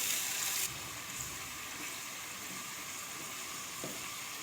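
Ground masala fries in ghee in a pan for Lahori chole, giving a steady, close sizzling hiss with a brief louder burst at the start.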